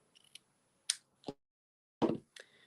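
Paper die-cut pieces are snipped with scissors in a handful of short, sharp crisp cuts spaced irregularly, close and quiet in a silent room.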